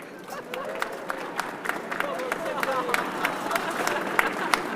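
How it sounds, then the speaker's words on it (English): Crowd applause at an outdoor gathering honoring the Fearless Girl statue near the NYSE, with scattered claps and cheers over a steady murmur of voices. "let's have one more round of applause for the Fearless Girl"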